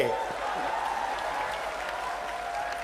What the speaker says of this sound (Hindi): एक बार आप सब लोग इनके स्वागत में ताली बजा के स्वागत करेंगे।